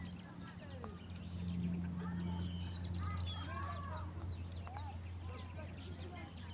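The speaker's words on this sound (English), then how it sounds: "Sikia ndege, my friend." Many birds chirp and call together near a swamp on the Kamiti Prison farm, over a steady low hum, a busy chorus of varied whistles and quacking notes.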